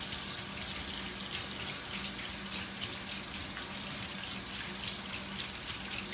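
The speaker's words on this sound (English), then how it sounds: "Guess the water needs to get hot so I can get this grease off" Tap water gushes steadily into a kitchen sink while greasy hands are washed, a close, continuous splashing hiss with a low hum beneath and no speech.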